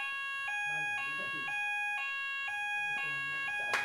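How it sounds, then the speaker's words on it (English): A real alarm siren sounds indoors in a repeating on-off pattern of steady electronic tones, each about half a second, with a person speaking quietly beneath it. "No, I think that's a real alarm."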